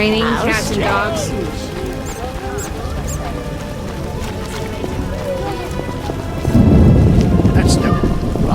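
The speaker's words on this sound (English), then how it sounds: "Raining cats and dogs." Heavy rain pours steadily in The Witcher game while thunder rolls, with a deep loud rumble building near the end; voices speak faintly beneath the storm.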